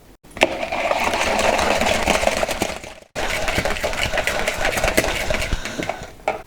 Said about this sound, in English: My idea is to whisk the aguafaba to get a lot of air in it